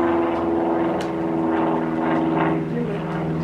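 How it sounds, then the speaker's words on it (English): A propeller airplane passes overhead with a continuous droning hum and steady harmonic tones, heard outdoors under brief snatches of nearby voices. "Do you hear the plane?"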